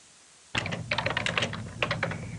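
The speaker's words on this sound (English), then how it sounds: "I'm going to type some text." Rapid, uneven keystrokes on a computer keyboard while text is typed into an Access 2000 form, close and clear. The typing comes in bursts with brief pauses and starts after a short silence.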